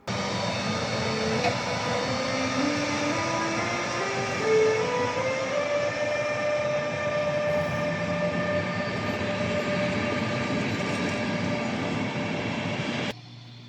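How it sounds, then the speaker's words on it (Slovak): A Siemens Taurus electric locomotive accelerates nearby. Its traction motors whine in rising stepped tones like part of a musical scale, over a steady loud rumble of the train, then the sound cuts out abruptly near the end. "Tu si vypočujme virtuozitu konštruktérov rušňa Taurus, ktorí zariadili, aby rušeň pri každom rozbehu zahral časť hudobnej stupnice."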